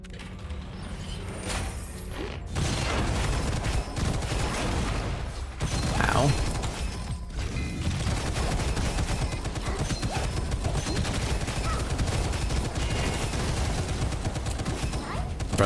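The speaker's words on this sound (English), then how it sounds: "Infinite ammo and constant explosions." Rapid gunfire and explosions from the first-person shooter Gunfire Reborn, a dense, continuous fusillade with constant blasts, loud and sustained throughout.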